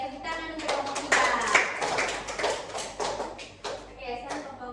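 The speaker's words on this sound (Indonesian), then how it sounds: "tepuk tangan untuk kelompok 3" Classroom applause for a student group during a microteaching lesson: scattered hand claps from a small group, fairly close, mixed with children's chatter and voices throughout.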